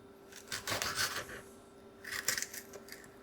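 Knife slicing food into small pieces for an omelet, heard as two close bursts of crisp cutting and rubbing strokes separated by a short pause, with no talking.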